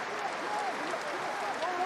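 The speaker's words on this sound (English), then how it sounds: "Still the applause rings round the stadium as the respect is shown" Sustained applause rings around a rugby stadium at a Premiership Rugby final, a dense steady wash of clapping from a large crowd with commentary-like voices faintly mixed in.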